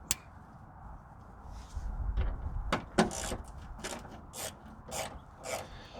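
A ratchet fitted with a T30 Torx bit backs screws out of plastic trim on a Toyota Land Cruiser, making a few soft, close clicking ratchet bursts separated by brief pauses, with no talking.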